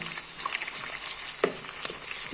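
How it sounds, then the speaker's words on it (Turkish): Tomato paste frying in a pan for a rice pilaf with meat, a steady soft sizzle with a few light stirring clicks and scrapes, close and fairly quiet. "güzelce kavuralım. Salçanın kokusu çıksın."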